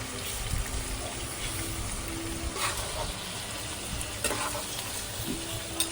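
Chicken pieces for a homemade chicken pickle fry in hot oil, giving a steady, dense sizzle that lasts throughout, with a few soft stirring scrapes over it, close and fairly loud.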